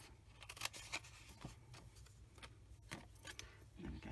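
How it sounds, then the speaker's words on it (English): Scissors snipping through paper while making a small craft gift box, a series of faint, separate crisp cuts at an uneven pace over a quiet background. "I'm going to snip into there and cut that piece off."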